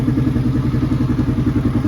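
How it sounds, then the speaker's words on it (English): A Tao Tao TBR7 dirt bike engine idles steadily up close, a loud, even low thrum with a fast rhythmic tick of valve chatter running through it. "idling pretty good now. You got your little valve chatter even after you adjust them"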